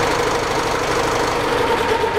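Tractor engine idling steadily after an alternator charging test during a practical electrical class, a continuous close drone with a faint knocking pulse and no voices.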